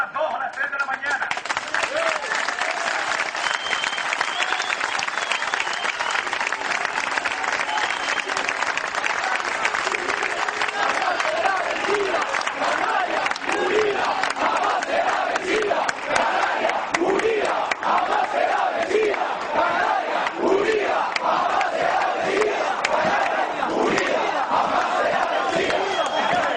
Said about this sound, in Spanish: Un aplauso a los aldeanos que han venido desde